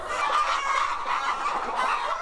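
A flock of chickens on a poultry farm housing twenty thousand laying hens clucks continuously, a dense, steady chorus of overlapping calls filling the space without pause.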